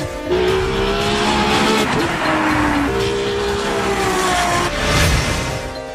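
Ferrari Formula One race car at speed with loud engine whine rising and falling through gear changes, joined by squealing tires, close and continuous for several seconds without voices.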